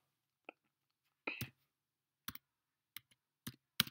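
Keys on a computer keyboard are pressed in sparse, separate taps and short clusters during gameplay, close by and quiet against an otherwise silent background.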